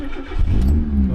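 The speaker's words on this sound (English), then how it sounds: "So now let's start the engine." A 1.6-litre 1993 Mazda 323 engine cranks and catches, settling into a loud, low idle rumble close by after a brief starter whir.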